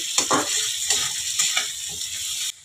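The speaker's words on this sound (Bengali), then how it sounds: "যত ভাজবো তত তরকারিটা টেস্ট হবে।" Bitter gourd and potato curry with turmeric frying in a pan gives a steady hiss of sizzling oil, broken by repeated scraping and clicking as a spatula stirs the pieces, close and fairly loud.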